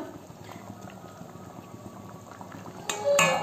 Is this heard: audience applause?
no